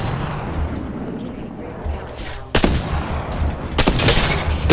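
Gunfire rings out in a video game shooting, with several sharp loud shots and bursts over a busy in-game background.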